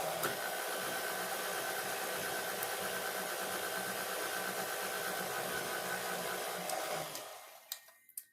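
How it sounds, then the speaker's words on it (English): An electric mixer beats chocolate stout cake batter with a steady, close whirring hum that cuts off near the end, followed by a few light knocks and clinks. "I stirred it in a little bit with the spatula before I turned on the mixer"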